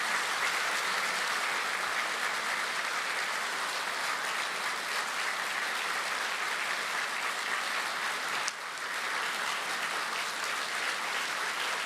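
Sustained applause from a church congregation at the 2023 Korean Easter union worship service at Youngnak Church. It fills a large hall evenly and loudly for the full length, with a brief dip near the end.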